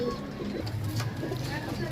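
Low, soft pigeon cooing repeats steadily under an ongoing murmur of background noise, close by and fairly quiet.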